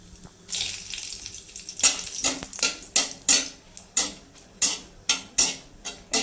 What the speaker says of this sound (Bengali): এই যে কালো জিরে দিয়ে দিচ্ছি দুটো শুকনো লঙ্কা দিয়ে দিলাম